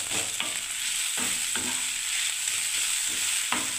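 Chow mein tossed with spices and peanuts in a pan, a spatula scraping in steady repeated strokes over a continuous sizzle, close and fairly loud with no talking.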